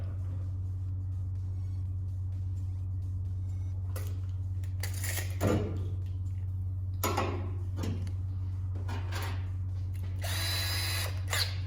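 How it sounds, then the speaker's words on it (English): A steady low motor hum with bursts of a power drill boring a 1/4-inch hole, whirring and grinding, several short runs in the second half, close by. "I'm just going to drill a 1/4 inch hole"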